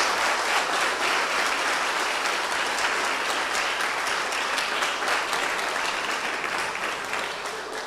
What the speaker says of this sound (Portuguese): Aplaudam Jesus e vamos orar.